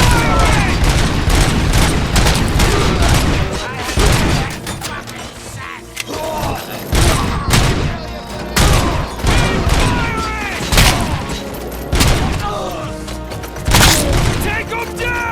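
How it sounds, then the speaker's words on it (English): Gunfire in the video game RoboCop: Rogue City: loud bursts of shots and heavy booms in a rapid, irregular fusillade, with voices shouting over the combat. "Contact! Contact! Keep firing!"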